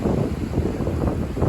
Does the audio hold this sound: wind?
yes